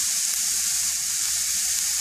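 Carrots and bell peppers tipped into a pan with nearly golden onion, giving a dense, even, hissing sizzle with no stirring strokes or voices.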